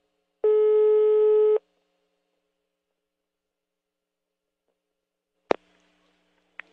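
Telephone line tone heard while a prank call is being dialed: one steady, clean electronic tone lasting about a second, followed by silence and then a sharp click as the line connects.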